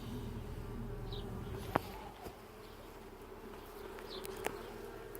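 Honey bees buzz softly and continuously around an open hive during an inspection, a faint steady drone with occasional individual bees passing close, no talking.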